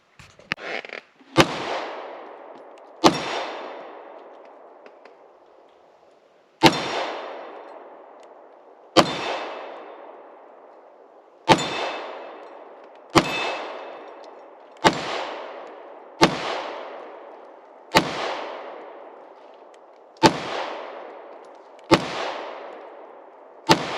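Smith & Wesson M&P 2.0 compact 3.6-inch pistol firing about fifteen sharp, loud gunshots at an uneven, deliberate pace, each crack followed by a decaying echo, outdoors with no talk.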